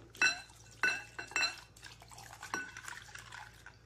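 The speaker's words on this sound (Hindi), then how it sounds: "नेक्स्ट इसमें डालिए दूध" Milk being poured into a bowl heaped with ice cubes for a Delhi-style sharbat, with several sharp, close clinks of ice against the bowl followed by softer splashing and knocking.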